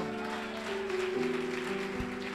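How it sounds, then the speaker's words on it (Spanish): Congregation clapping during a Sunday morning church service in Barquisimeto, Venezuela: steady, dense applause filling the room, with sustained keyboard or organ tones sounding beneath it throughout. "denle un aplauso al Señor"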